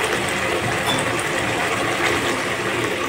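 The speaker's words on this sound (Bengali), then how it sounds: "এবার আমি এর সাথে জল অ্যাড করবো" Water is poured into a pan of chili chicken gravy, making a steady, loud, unbroken rushing sound for the whole stretch with no talking.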